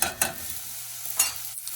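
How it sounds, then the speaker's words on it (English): A spoon stirs a pot of vegetarian corn chowder over medium heat, giving a few short scraping strokes close by over a soft simmering hiss. "And then let's stir it."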